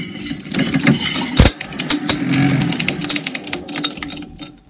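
Electric go-kart motor spinning the drive chain on a first test, a loud, rapid mechanical whirring and rattling with fluctuating intensity and a sharp clank partway through.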